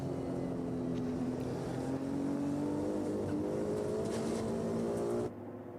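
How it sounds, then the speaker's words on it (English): Ferrari 296 Evo race car at the Nürburgring 12-hour race, a steady high engine note droning and rising slightly as it holds speed, heard alone before cutting off abruptly near the end. "Different noise to enjoy from the Ferrari 296 Evo."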